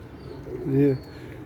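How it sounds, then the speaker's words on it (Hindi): A single low, soft pigeon coo, rounded and brief, rising from a quiet background. "ये कबूतर देखने के लिए इधर ये जगह बनाई है"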